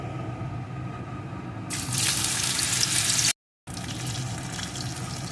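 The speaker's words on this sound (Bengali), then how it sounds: "এখন এর ভিতরে আমি দিয়ে দেব মুগ ডাল যেটা আমি ধুয়ে রেখে দিয়েছিলাম" Washed moong dal hits a pan of hot tempering and starts frying, a sudden loud hissing sizzle that surges over a low background hum, then cuts out briefly before a quieter steady crackle continues.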